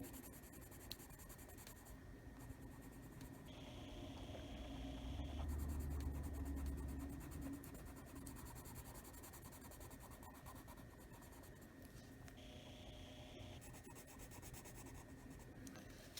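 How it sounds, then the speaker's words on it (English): A black Prismacolor colored pencil shading across paper makes a steady, close scratchy rubbing that continues throughout, swelling slightly louder partway through, with no talking. "And we're going to darken it with the black pencil."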